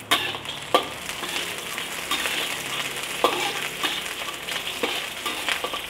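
Garlic, onion and curry leaves fry in hot oil with a loud, steady hissing sizzle, broken by frequent crackles and spits throughout, and no one speaking.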